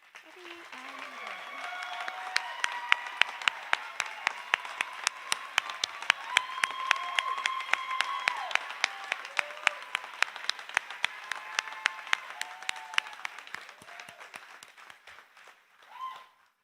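Sustained applause from a graduation crowd honoring the Leading Edge Academy Online Class of 2021, dense clapping rising and holding steady for about fifteen seconds before fading, with some voices and cheers mixed in.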